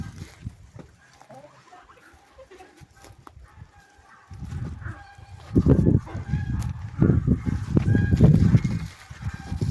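Poultry calls out near and far: clucks and honking squawks come in irregular bursts, growing louder and busier in the second half.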